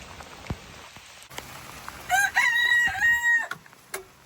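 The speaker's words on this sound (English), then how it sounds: "Come on, chickens." A rooster crows loudly partway through, a long wavering call, after a couple of sharp clucks and knocks from chickens on a rainy farm, with soft rain hissing underneath the whole time.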